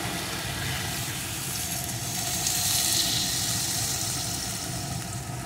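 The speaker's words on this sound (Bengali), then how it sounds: "এখন এর ভিতরে আমি দিয়ে দেবো পরিমাণ মতো জল" Water poured into a pan of frying red amaranth stems and vegetables, a steady broad rushing hiss that holds loud and even throughout with no voices.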